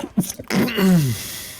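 A single person sneezing during a tabletop role-playing game session, a quick sharp intake followed by a loud, close, voiced burst that trails off.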